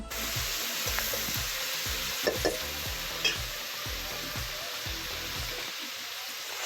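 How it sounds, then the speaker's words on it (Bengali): Meat frying with onions in a pan, a steady loud sizzle running throughout with occasional stirring scrapes and a low rhythmic thumping beneath, close and with no voices. "এরকম মাংস রান্না মোটামুটি আমাদের শুরু হয়ে গেল"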